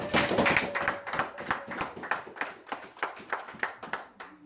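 A church congregation clapping during a French-language service, producing a steady rhythmic beat of many hands that carries on throughout, fairly close and lively.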